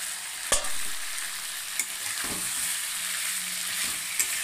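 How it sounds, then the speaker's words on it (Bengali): Shrimp frying with cabbage in a pan, a steady close sizzle with occasional sharp clacks of a stirring utensil. "এবার আমি চিংড়ি মাছটা দিয়ে দেবো।"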